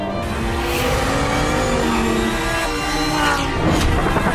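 A Lamborghini Huracan STO super sports car engine roars loud and close, a dense, sustained growl that builds progressively over a few seconds with no talk.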